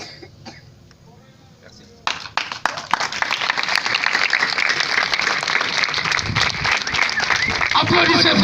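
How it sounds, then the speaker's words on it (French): Quiet voices at first, then a theatre audience breaks into dense, loud applause after a performance, the clapping building and continuing with a few coughs mixed in. "Applaudissez pour Jamla"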